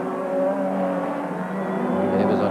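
A Mazda four-rotor race car, built in the States, screams around the Kyalami circuit in a 1994 Wesbank Modifieds race, a loud, steady high-pitched engine howl holding throughout with a slight rise near the end.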